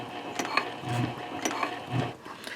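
A sewing machine stitches a trifold wallet of Cordura fabric, running steadily up close with a fast mechanical needle rhythm and faint clicks, with no voice over it.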